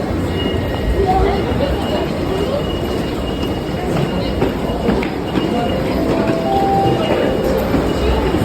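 Busy ambience at the large Toshima-Nishikebukuro train station: a loud, steady rumble of rolling trains and rail noise with crowd murmur blended throughout.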